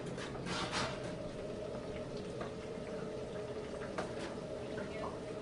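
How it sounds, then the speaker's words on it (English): Steady, dense crackling hiss of fries frying in fresh hot oil, continuous and fairly close, with a few brief clinks and faint background sounds. "Hear that sizzling there. You can tell that's some fresh oil in there."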